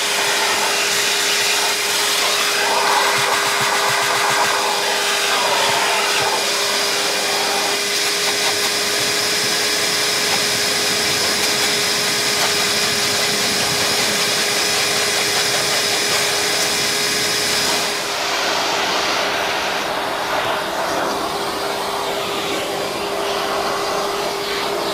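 Vacuum cleaner with brush and crevice attachments working over the leather, chrome and upholstered interior of a dirty Bentley Turbo R, a steady loud whining drone that shifts tone near the end as the nozzle moves.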